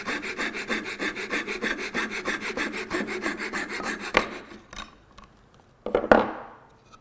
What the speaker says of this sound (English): this time use a coping saw. And I would bring the coping saw in, and I can make the cut going across